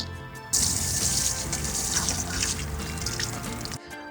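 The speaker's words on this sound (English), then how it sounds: "The soil is very loose but also very dry, so I'm going to water it first" Water splashes and trickles steadily onto loose, dry garden soil for several seconds, close and fairly loud, starting abruptly and cutting off near the end.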